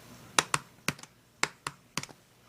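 Typing on a keyboard during a podcast: short bursts of crisp, close key clicks in uneven pairs and clusters, with no talk over them.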